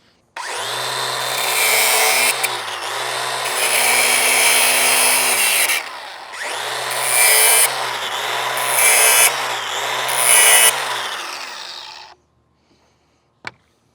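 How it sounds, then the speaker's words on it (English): A DeWalt FlexVolt cordless nailer runs, with a loud motor whine and nails being driven into wood in two long bursts separated by a short pause. A sharp click follows shortly after, then silence. "I'm gonna throw some nails up here real quick and show you guys what it'll do through those."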